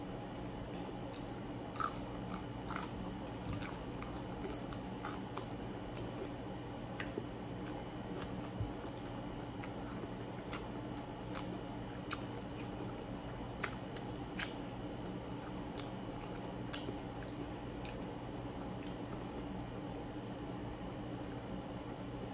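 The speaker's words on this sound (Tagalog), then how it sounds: "Talagang pinaka-crispy ko po siya dahil masarap talagang kumain ng pritong isda pag malutong." Crispy fried fish is bitten and chewed in a Filipino mukbang alongside sautéed mung beans, mango and rice, with repeated sharp close crunches over a steady low background hum.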